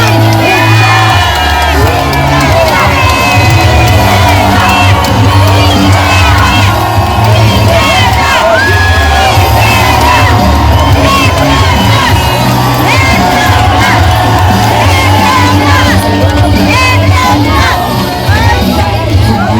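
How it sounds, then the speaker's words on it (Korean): Huge outdoor crowd at a rainy election rally in a city square, cheering, whooping and shouting continuously and loudly throughout, with dense layered voices and no break. "뜨거운 박수와 박수를 부탁드립니다"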